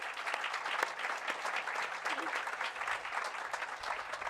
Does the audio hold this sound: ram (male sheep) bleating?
no